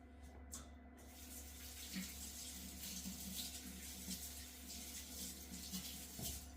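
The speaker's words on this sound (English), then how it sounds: "I'm going to wash my hands." A kitchen tap runs steadily as hands are washed beneath it, water splashing into the sink in a continuous close hiss with small shifts in flow, and no talking.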